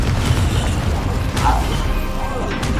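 Confringo, the blasting spell in Hogwarts Legacy, goes off as a loud burst of crashing impacts with magical whooshes over busy combat sounds, and a voice is heard around it.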